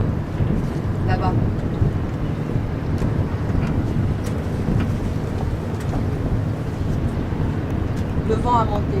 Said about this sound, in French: Le vent a monté.